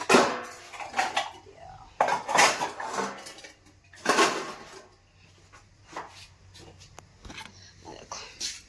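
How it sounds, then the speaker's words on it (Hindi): Metal utensils, pots and pans clatter and clink in a home kitchen, loud bursts of scraping and knocking separated by quieter pauses, with someone talking through much of it. "अब बर्तन भी मांज दिया सारा मैं"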